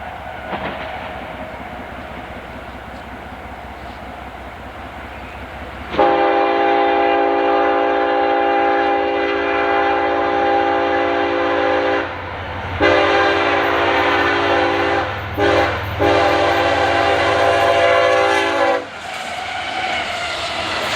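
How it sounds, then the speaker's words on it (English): CSX freight train I-008 races eastbound through a quiet park toward Buffalo, its loud horn blowing in several long, repeated blasts over a deep rumble of wheels close by. "CSX I-008 kills the silence that has fallen over the park as it races east towards Buffalo"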